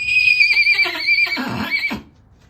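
A mare gives a loud, close whinny that rises, wavers for about two seconds, then cuts off abruptly into quiet.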